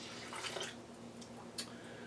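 Water is poured into an Almond Cow nut milk maker, making soft, faint splashing and trickling with a few brighter drips, and no one speaking.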